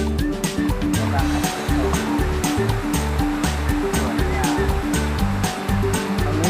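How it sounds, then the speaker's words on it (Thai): Tier 4 of Huai Mae Khamin waterfall in Kanchanaburi gives a constant broad wash of falling water, steady and fairly near, with music playing underneath. "อันนี้นะครับก็คือน้ำตกห้วยแม่ขมิ้นชั้นที่"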